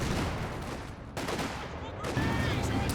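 Artillery barrages in a real-time strategy game, a dense continuous roar of distant shelling and gunfire crackle with overlapping blasts, steady and loud throughout.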